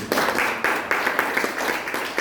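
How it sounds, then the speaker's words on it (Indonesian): Congregation clapping during a church service, a sustained wash of applause with a few sharper claps standing out, fairly loud and close, with no voices on top. "tepuk tangan dong buat Tuhan"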